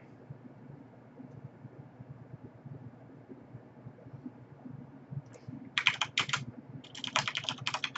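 Keystrokes clatter on a computer keyboard in two short bursts near the end, after several seconds of quiet room noise with low rumble. The keys sound close and crisp, and no one speaks.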